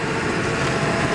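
Cab of a 1999 Ford F250 Lariat 4x4 pickup with the 7.3 Powerstroke diesel, driving over a very bumpy road: a steady, moderately loud engine and road drone with no clear knocks or rattles standing out.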